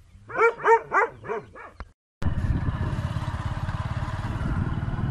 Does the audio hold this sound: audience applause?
no